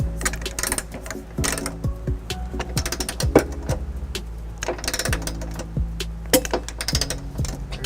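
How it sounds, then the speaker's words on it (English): A torque wrench with an 18mm socket ratchets repeatedly while tightening trailer hitch nuts on a 2011 Ford Escape, rapid clicking bursts in quick strokes, close and loud, with no talk. "This torque wrench here is gonna give us a popping noise. We're using a 18mm socket to tighten down all these"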